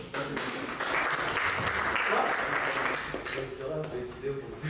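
A room of university students applauds at an entrepreneurship talk, a burst of clapping that swells then eases over a few seconds, mixed with murmured voices from the crowd.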